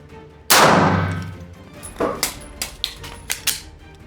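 A single loud gunshot at a close-quarters shooting drill rings out and decays, followed by a quick series of sharp metallic clicks and clacks as a magazine is swapped and the firearm is reloaded.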